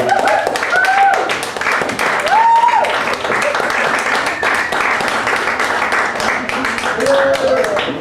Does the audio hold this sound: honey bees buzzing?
no